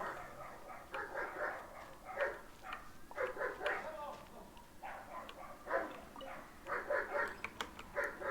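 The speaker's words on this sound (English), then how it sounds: "you probably heard dogs barking outside" Dogs barking outside, heard indoors as a muffled run of repeated barks and yips that come in clusters and sound fairly distant and soft.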